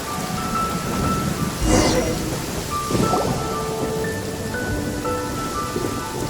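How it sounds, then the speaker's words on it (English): Steady downpour of rain in the video game Genshin Impact, with a rumble of thunder near the two-second mark and soft game chimes over the constant hiss. "Taking a stroll in the middle of a downpour certainly rouses the spirit."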